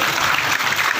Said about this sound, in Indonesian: Saya tahu jamaah tepuk tangan biar sedihnya hilang.